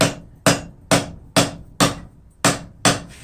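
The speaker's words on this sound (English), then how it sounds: "we hammer that off to kind of get this thing rounded off" Seven heavy metallic hammer blows on hot steel at a steady, even pace while forging tongs, each ringing briefly before the next strike lands.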